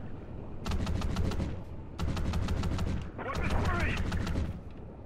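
Bursts of rapid automatic gunfire from Call of Duty: Ghosts in three sustained volleys, loud and close, with brief gaps between the first two, and voices talking over the shooting.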